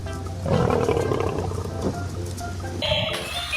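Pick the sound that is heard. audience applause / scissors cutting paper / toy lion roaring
toy lion roaring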